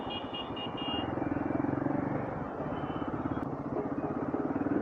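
Motorcycle engines in Delhi traffic, a close steady pulsing putter with a faint horn-like tone early on, the rhythm swelling and easing as bikes move past.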